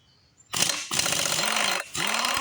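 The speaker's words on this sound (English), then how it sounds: "I'll be one of the few mechanics that still use air tools" Air tool on an outboard motor flywheel: a loud, close, rattling pneumatic burst that runs about a second and a half, stops briefly, then starts again.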